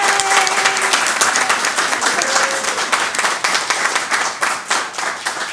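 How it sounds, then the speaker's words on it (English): Steady applause from an audience at a school board meeting, dense clapping that rises loud and holds for several seconds, with a few faint voices underneath. "stand up so we can give you a round of applause"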